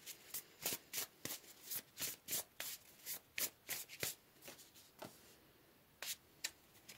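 Tarot cards shuffled close by in quick, crisp riffling bursts, a rapid rhythmic series of papery slaps that pauses briefly and then resumes with a few more flicks, with no one speaking.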